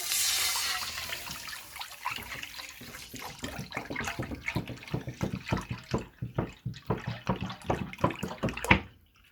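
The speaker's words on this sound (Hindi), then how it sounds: "मैंने इसमें अभी और दूध डाला है।" Milk pours from above into a pan greased with a little ghee, opening as a continuous splashing stream, then breaking into a run of separate glugs and splashes that trail off, close by with no talk.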